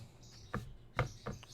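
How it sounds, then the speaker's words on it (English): Birds chirp faintly in the background indoors, three or four short, separate calls spread over a quiet room tone, with no talking. "you can hear in the background maybe there are two birds"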